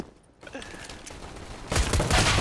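Rapid gunfire in a competitive Valorant-style shooter match bursts out loud in the final stretch, a dense fusillade after quieter game ambience and faint footsteps.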